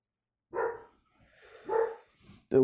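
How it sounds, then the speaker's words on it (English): A dog barks outside in two separate, muffled woofs with a softer whine between them, then a third bark cuts in sharply at the end, heard at a moderate distance with no talking. "Dog bugging out outside."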